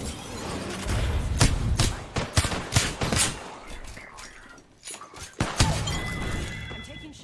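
Rapid gunfire and explosive bursts in a shooter video game, loud and dense, with clustered shots, impacts and a brief lull before the firing resumes.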